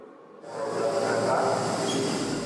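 Southeast Asia's first high-speed railway train rushes past with a loud, steady broadband roar that swells in quickly and holds, a faint rail squeal riding on top.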